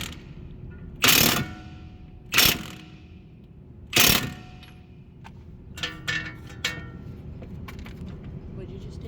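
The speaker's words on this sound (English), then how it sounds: "I tightened down the lower mounting bolt that connects the lower control arm to the strut" Working on the front suspension of a Lexus IS350, a ratchet spins the lower strut mounting bolt tight in three loud, rasping bursts, followed by lighter clicks of tool and metal.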